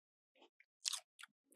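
Crunchy Pennsylvania potato chips being bitten and chewed close up, a few short crisp crunches in quick succession, quiet and alone without talk.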